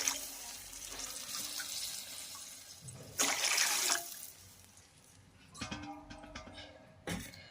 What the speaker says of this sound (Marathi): यावर आपण आता पाणी घालणार आहोत तर इथं मी पाणी दीड गिलास घालत आहे